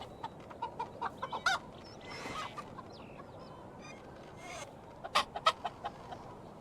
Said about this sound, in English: I don't know why the hell there's chickens out here.